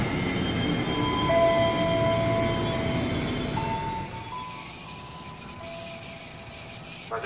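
A KRL Commuter Line JR 205 electric train rolls through Rawabuntu station with loud rumbling wheels and faint squealing tones, the roar easing as it moves away near the end.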